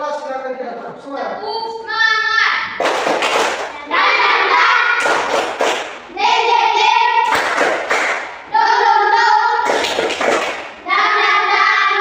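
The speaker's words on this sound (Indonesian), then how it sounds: "Ketua kelas silakan kita tepuk semangat." A classroom of children doing tepuk semangat, rhythmic spirit clapping led by the class leader, with bursts of loud, close, patterned hand claps alternating with children chanting in unison.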